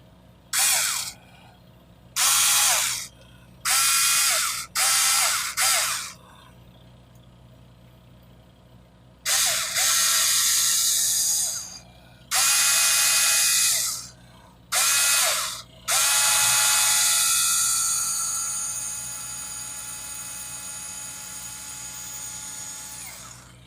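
A small drill boring into a wheel for a model diorama, a series of short high whirring bursts separated by pauses, then one longer run that winds down, close and loud.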